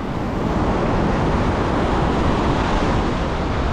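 Strong ocean waves at a beach make a loud, continuous roar of surf and rushing water with steady wind noise over the microphone. Nobody speaks.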